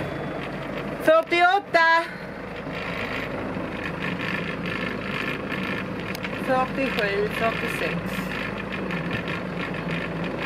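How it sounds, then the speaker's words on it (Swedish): A sailboat's engine runs at a steady low idle in Camariñas, a continuous rumbling drone beneath a person counting aloud. "Nu är i alla fall motorn på"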